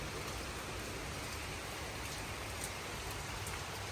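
Steady rain shower falling in Aylsham, Kingston, Jamaica, a dense, even hiss of drops on surfaces with occasional brighter splashes, continuous and fairly close throughout with no voices.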